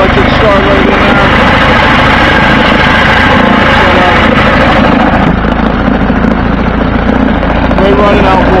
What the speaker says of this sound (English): Great running outboard. Starts right up, runs good.